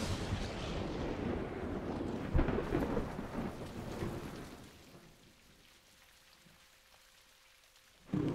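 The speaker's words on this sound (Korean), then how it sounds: "전 세계에 열대성 폭풍이 몰아칩니다." A tropical storm's heavy rain roars with rolling thunder, the downpour loud at first and then fading to a quieter patter, before a sharp clap of thunder bursts at the very end.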